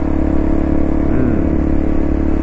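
A Honda Cross Cub 110 (JA45) motorcycle engine runs with its aftermarket power filter enclosed in the stock air-cleaner box, giving a steady, loud, close low-pitched thrum with no voices.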